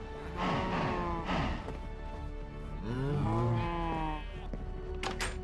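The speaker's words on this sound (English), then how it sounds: "the cows and sheep made a lot of noise" Sheep bleating in the Minecraft video game, several drawn-out wavering bleats in succession, loud and close, with no talking.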